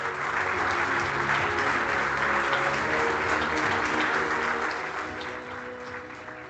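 Audience applause at a workplace safety awards ceremony in Portugal, dense, sustained clapping from a large crowd that holds steady and then starts to taper off toward the end.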